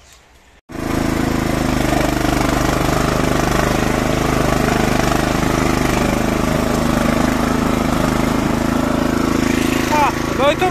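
A tractor engine starts and then runs steadily at a loud, even drone for about ten seconds during wood-sawing work with a CMS 700 saw, close by, with faint voices over it near the end.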